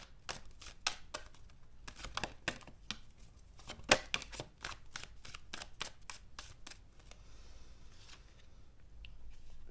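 Tarot cards are shuffled and flipped in a steady run of crisp, close snaps and riffles, one sharper slap near the middle, with no talking.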